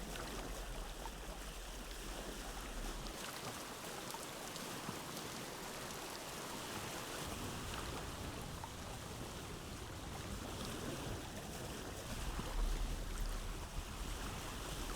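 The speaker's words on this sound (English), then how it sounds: "So as we're crossing the ocean to go visit Mr. Tobias" In the game Vintage Story, a raft crosses open ocean water, giving a constant wash of waves and rushing water with a windy hiss that holds steady the whole time.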